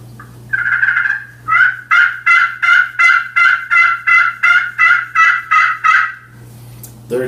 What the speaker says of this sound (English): draw a small semicircle to replicate the yelping of a hen